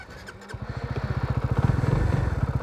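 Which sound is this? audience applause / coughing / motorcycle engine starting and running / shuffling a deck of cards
motorcycle engine starting and running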